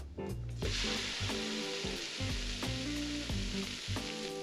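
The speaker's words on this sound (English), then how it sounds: "Next, we'll add our tomatoes." Tomatoes sizzle as they go into a pan of onions and smashed garlic for feijoada, a loud hiss with a repeated rhythmic hum underneath that swells and dips.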